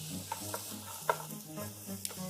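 Steady sizzling of vegetables frying in olive oil for Italian wedding soup, with a few brief stirring scrapes and clinks over the continuous crackle, fairly quiet.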